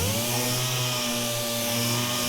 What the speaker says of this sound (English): I'm gonna start sanding